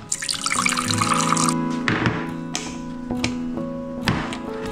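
Water pours into a container holding leftover tofu, a steady liquid rush for the first moment giving way to softer trickles, drips and light taps of the container in a home kitchen.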